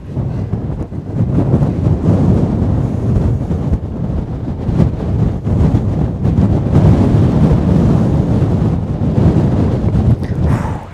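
Strong wind buffets the microphone on an exposed golf course at Nefyn, Wales, a loud, continuous roaring rumble with gusting swells throughout.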